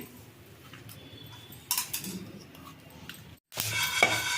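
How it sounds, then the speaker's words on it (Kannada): Black pepper tipped into a hot pan of tempering spices for puliyogare gojju, a short rattling patter and brief sizzle, followed by a spoon scraping the pan. "ಜೀರಿಗೆ ಆಗಿದೆ ಮೆಣಸು ಹಾಕ್ಕೊಳ್ತಾ ಇದ್ದೀನಿ"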